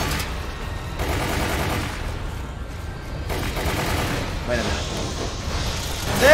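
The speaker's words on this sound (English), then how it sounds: "I found out how to throw grenades!" Grenade blasts and gunfire from a video game rumble as a dense, continuous barrage, with excited talking over the noise.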